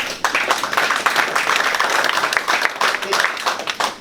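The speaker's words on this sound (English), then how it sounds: "I think we should all give a round of applause" Applause from the audience at a Republican gubernatorial candidate forum in Connecticut, a dense, steady patter of many hands clapping at fairly close range for about four seconds, with no talk over it.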